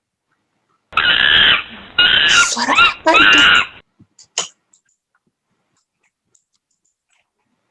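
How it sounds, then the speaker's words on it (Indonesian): Recorded monkey calls played for young children: three loud, harsh screeching bursts in quick succession, followed by a few short, scattered yelps and then near silence. A voice also speaks briefly. "Oh, suara monyet."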